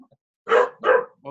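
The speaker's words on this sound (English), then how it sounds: "That's my dog." A dog gives two close, loud barks in quick succession, with a third starting just as it ends.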